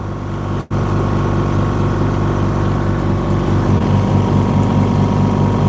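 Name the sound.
noisy air compressor running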